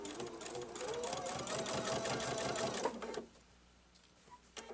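A Pfaff sewing machine stitches steadily through many thick layers of a prairie point pumpkin pillow, a fast even whir for about three seconds before stopping, with a soft voice nearby afterward.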